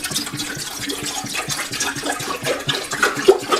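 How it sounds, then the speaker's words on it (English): Water pours and splashes steadily into the tank of an ultrasonic record cleaner, a continuous gushing flow with small bubbling sounds, close and fairly loud. "So I'm going to pour the water in."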